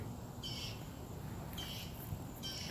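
Birds call outdoors in fine weather, three short, high bursts repeating at steady intervals over a faint, constant background hiss, with no voices.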